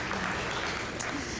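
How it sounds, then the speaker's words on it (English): Brief burst of audience applause at a Seattle Colleges convocation, a continuous wash of clapping from a sizable crowd, steady and moderately loud throughout. "So please join me in another round of applause for all the folks that have joined us today."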